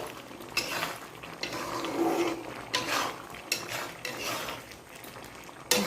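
Panch phoron spice mix stirred in a pan, a spoon scraping and clinking against metal in soft, irregular strokes, with a sharper knock at the end.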